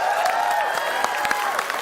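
A studio audience at a game show applauds with scattered claps and crowd noise under a sustained musical tone, moderately loud and fairly near.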